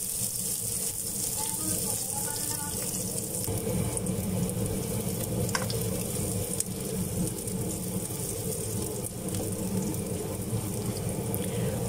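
Garlic and onion frying in a pan, a steady dense sizzle throughout with occasional light clicks, continuous and moderately loud, with a voice talking at times over it.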